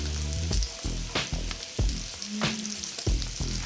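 A T-bone steak searing in butter in a pan over medium-high heat, a loud, close, continuous sizzle broken by regular low thumps and spatters.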